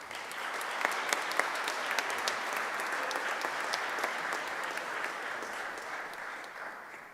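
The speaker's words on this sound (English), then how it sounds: "He got, I think, the loudest applause I've ever heard in this chamber" Sustained, dense applause fills the Providence city council chamber at a St. Patrick's Day celebration, many hands clapping loudly and evenly for several seconds before easing slightly at the end.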